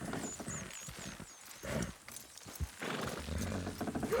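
Horses haul in Red Dead Redemption 2, with hooves clopping irregularly and a brief whinny amid game ambience, at moderate to faint level.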